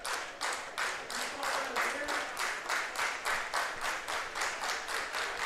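Ballpark crowd claps along in a steady, even rhythm at a London Majors playoff game against the Hamilton Cardinals, regular bursts repeating throughout, fairly loud with no talk over them.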